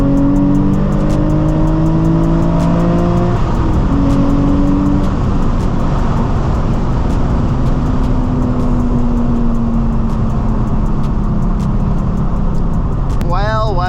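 A Nissan 350Z HR engine drones loud and steady inside the car in third gear while overtaking on an open road, its tone climbing gradually under accelerating load, with a rising whoosh near the end and voices talking over it.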